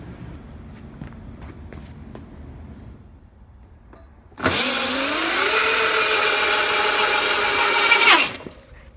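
Voloci electric bike with a swapped motor on a Kelly KBS controller, run at 15 cell, spins up abruptly into a loud, steady electric whine with a rising pitch that holds for about four seconds, then cuts off after quieter handling noises.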